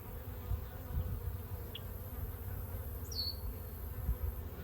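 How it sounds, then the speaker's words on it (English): Honeybees drone at an open hive in a low, steady hum, with a single brief high-pitched beep rising above the buzzing. "I hear some bees chatting."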